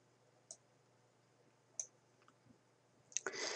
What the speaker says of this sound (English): So click on your Save button.